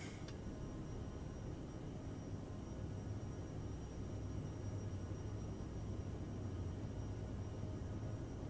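Steady broadband jet roar from an Aerosoft CRJ700 jet airliner climbing out after takeoff in Microsoft Flight Simulator, a constant loud engine wash with low rumble throughout.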